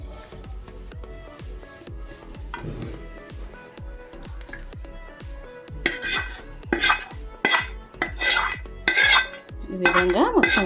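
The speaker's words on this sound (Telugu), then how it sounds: "చూడండి ఈ తాలింపు ఇందులో వేసి కలిపేసుకుందాం చట్నీలో." A spoon stirs fried tempering into tomato chutney in a pot, with steady, rhythmic metallic scraping and clinking against the pot that grows into louder, busier clatter toward the end, with no voices.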